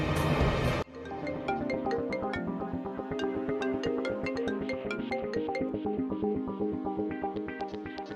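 A phone ringtone plays a bright, repeating electronic melody in quick regular pulses, loud and close, after a short burst of noise at the start, with no talk over it.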